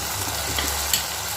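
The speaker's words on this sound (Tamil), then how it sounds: "இதையும் சேர்த்து நல்லா வதக்கி விட்டுக்கலாம்." Tomatoes and green chillies fry in a pan for a karuvadu and elephant-yam kuzhambu, giving a steady close sizzle with a faint low hum and one small clink near the end.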